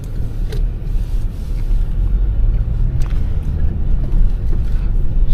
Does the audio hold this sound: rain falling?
no